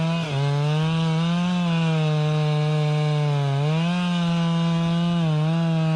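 A Stihl chainsaw cuts through a big tree, its engine whining steadily and loud with short dips in pitch as the chain bites into the thick, dense wood.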